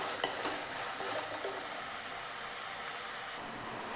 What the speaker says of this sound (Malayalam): അപ്പോൾ എല്ലാം കൂടി നന്നായി ഒന്ന് നമുക്ക് വഴറ്റിയെടുക്കാം